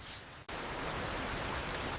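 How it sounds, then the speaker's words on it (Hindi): Steady hiss of rain falling, fairly faint and even, with a brief dip near the start before it continues unbroken. "अभी बारिश रुकने दो"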